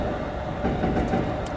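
Train running on the Yamanote Line in the Densha De Go! video game, a steady, continuous low rumble of wheels and motor that holds at an even level throughout with no talk.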